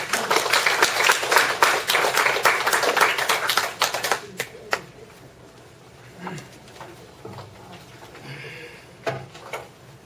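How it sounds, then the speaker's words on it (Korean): An audience at a Won Buddhist temple service in Los Angeles claps to welcome a speaker, a dense burst of applause for about four seconds that thins into a few scattered claps, with faint movement and murmurs afterward. "박수로 환영해 주시면 감사합니다."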